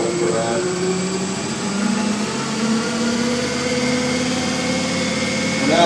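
An electric motor drives the oil pump of a ZF automatic gearbox in an electric-vehicle conversion, giving a loud, steady mechanical whine and hum that holds constant throughout and swells slightly at the end.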